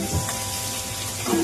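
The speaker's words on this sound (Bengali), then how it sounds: "এবার ওই তেলেই আমি আলুগুলো ভেজে নেব" Potatoes frying in oil left from frying lentil cakes, giving a short, steady, close hiss of sizzling with a couple of faint bubbling pops.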